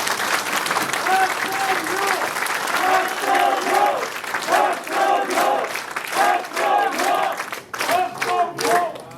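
Audience applause and cheering fill a crowded campaign office opening for a mayoral candidate, steady dense clapping with voices shouting over it.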